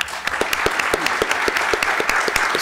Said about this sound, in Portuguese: peço uma salva de palmas ao governador Pedro